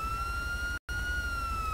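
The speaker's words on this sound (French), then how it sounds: "est-ce que vous pouvez défaire les sirènes?" Steady wailing police siren tone, loud and continuous with a brief dropout near the middle, over low rumble.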